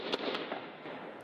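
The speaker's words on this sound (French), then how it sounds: "Des explosions et des tirs retentissent devant l'hôtel Splendide" Explosions and gunfire erupt outside the Splendide hotel during a jihadist attack, a dense roar of noise with several sharp cracks standing out, fairly loud and continuous.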